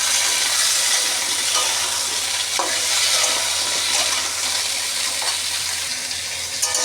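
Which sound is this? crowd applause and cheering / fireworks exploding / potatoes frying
potatoes frying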